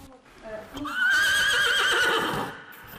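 A horse gives one loud, drawn-out whinny at a therapeutic riding session, close and rising then falling over about a second and a half, with people talking before and after.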